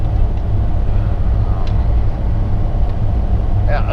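A 1940 Ford cruising at speed gives a steady, mellow low rumble of engine and road noise, constant and fairly loud throughout.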